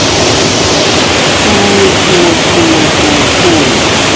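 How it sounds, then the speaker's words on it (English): River water pouring over a waterfall in Jamaica, a loud, dense, unbroken rushing roar filling the whole clip. "listen to the sound of the water"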